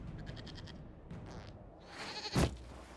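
A video-game goat bleats in a run of short, quavering cries, followed by a louder, sharper bleat near the end over a faint ambient bed.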